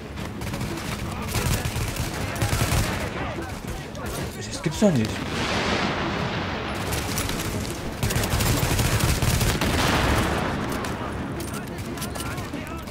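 Dense gunfire from The Division on PS4 during co-op play, with rapid bursts and sustained automatic fire throughout plus a few sharper reports, under frequent excited talk from players.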